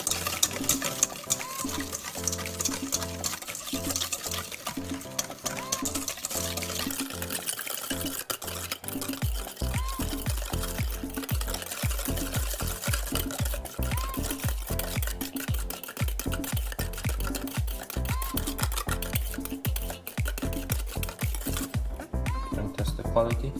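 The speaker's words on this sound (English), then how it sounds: "And then we're just gonna mix this" Jamaican pasta salad with smoked paprika being stirred in a bowl, a steady run of wet, squelching scrapes and soft clicks repeating rhythmically, fairly quiet, with a voice speaking over parts of it.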